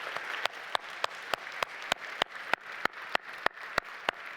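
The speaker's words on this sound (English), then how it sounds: "let's give our speakers a round of applause" Steady audience applause for speakers at the World Justice Forum 2022 opening plenary, a soft wash of many hands with regular sharp claps standing out near the microphone.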